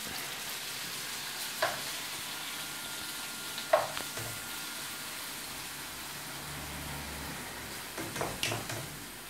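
Whole asparagus frying in a soffritto in a pan, a steady broad sizzle with a few brief louder crackles and pops scattered through, no talking.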